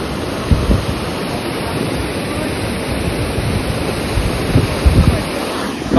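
Floodwater rushes after unseasonal rain during the Konkan monsoon, a loud steady roar of churning water with low rumbling surges and buffeting wind on the microphone.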